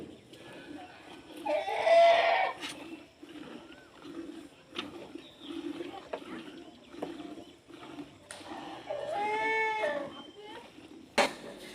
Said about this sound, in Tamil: எங்களோட ஆட்டுக்குட்டி